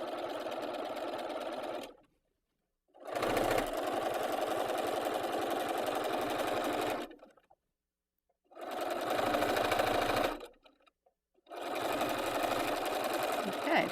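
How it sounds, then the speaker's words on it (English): A sewing machine runs close by in three long bursts of steady stitching, sewing fabric strips for a T-shirt with stabilizer underneath, with short quiet pauses between bursts. "you can just stitch along with the stabilizer underneath, and no stretching will happen"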